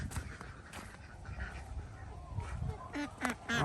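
A broody mother duck gives a few short, nasal quacks, clustered mostly toward the end. They sound fairly close and ring out over rustling outdoor background noise.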